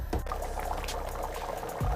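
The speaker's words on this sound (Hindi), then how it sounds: "इसमें हम बॉयल वाटर डालेंगे और 10 मिनट के लिए पकने के लिए इसको रख देंगे" Boiled water is poured into a pot of fried kidney bean curry on the stove, a close sizzling, bubbling pour with a short splash at the start and another at the end.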